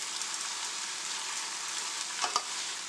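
Rice and beans being stirred in a hot pot while cooking an oxtail dinner: a steady, soft sizzling hiss, with a couple of brief scraping stirs near the end.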